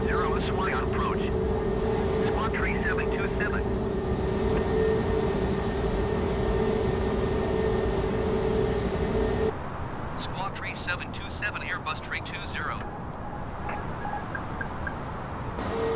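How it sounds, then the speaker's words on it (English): Airbus A320 engines in a flight simulator drone as a steady, loud whine and broadband roar throughout, shifting in tone partway, with radio voices talking over it. "Airbus 320."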